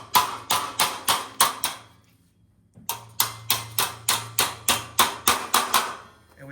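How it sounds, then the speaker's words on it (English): Sharp, rhythmic hammer strikes on metal connector plates during assembly of an outdoor kitchen backsplash, two bursts of evenly spaced ringing blows separated by a short pause, close and clear. "now we'll go ahead and take our hammer and we gotta hit those around"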